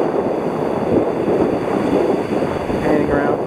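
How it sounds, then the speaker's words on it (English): Waves rolling onto the Lake Ontario shore at Woodbine Beach during a heavy blizzard make a steady, dense roar of surf blended with gusting wind buffeting the microphone, continuous and loud throughout. "Now look at some of these waves coming in."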